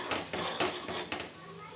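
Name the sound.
stirring curd into curry in a pan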